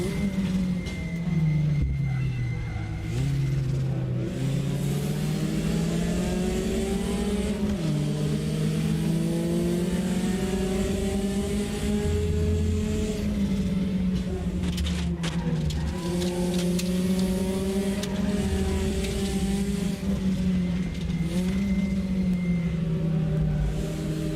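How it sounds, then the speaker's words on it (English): A Type R racing car engine in RaceRoom Racing Experience drones steadily and loudly, its pitch rising and falling with gear changes and throttle, with a high-pitched whine running throughout and no talking. "high-pitched noise of the Type R engine"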